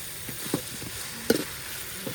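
Fish frying in plain oil with no other ingredients, a steady soft sizzle with a few brief clinks and stirring knocks.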